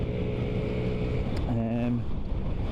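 A 2008 Honda Zoomer 50 scooter's small engine drones steadily on a test ride, pitch rising briefly as it accelerates, with wind noise and someone speaking over it.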